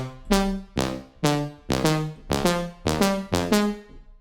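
A bright synth lead preset, from a Futuristic pack for future trance, plays seven even, punchy notes with sharp attacks and short decays, each note rich in harmonics, heard alone.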